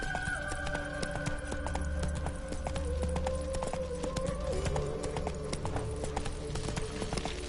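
Roach, Geralt's horse in The Witcher 3, trotting with steady rhythmic hoof clops on hard ground, close and continuous, with faint background game sounds beneath.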